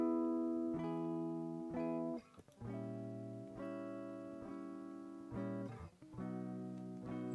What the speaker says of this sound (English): I basically just put a diminished chord below the chord I wanted to go to, in this case 5, and it made 5 sound like 1